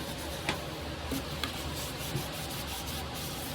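Fine 3000-grit sandpaper rubs steadily on a part while a landing gear seal is replaced on a Stearman biplane. The soft friction stays quiet and continuous, with a few light taps and strokes standing out.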